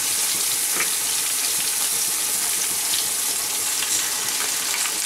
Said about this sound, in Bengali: আমাদের পেঁয়াজটা বেশ ভাজা হয়ে গেছে, আমি এবার টমেটোটা দিয়ে দেবো।